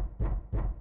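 Two dull, hollow knocks from inside a coffin in the video game 999, evenly spaced and fairly close, with no voices.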